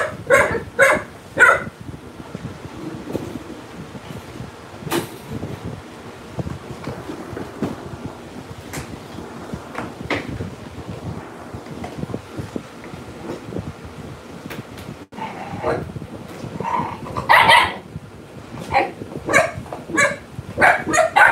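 Several pedigree puppies bark in repeated bursts, some close and loud, others fainter, over gusty wind noise outdoors, with clusters of yaps at the start and again toward the end.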